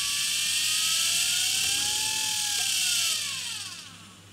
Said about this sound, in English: that will actually turn even though there's no power going to the field coils